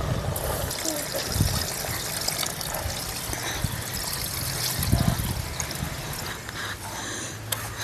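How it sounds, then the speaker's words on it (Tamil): Water is poured into a pot of chicken biryani, a continuous trickling, splashing flow heard close up with some background noise and a voice in the mix. "இப்ப தண்ணி ஊத்திக்கலாம்."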